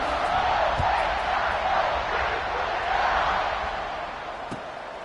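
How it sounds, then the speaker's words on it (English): A large stadium crowd at a football game roars steadily just before the kickoff, a broad sustained swell of many voices that fades a little toward the end. "this crowd now ready to get behind them"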